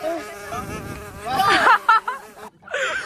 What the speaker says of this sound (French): regardez les mouches autour qui guettent le repas